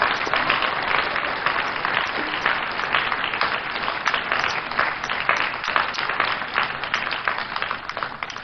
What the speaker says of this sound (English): So I would like you all to give a round of applause to Dr. Motilola Akinfamisoye Adejare.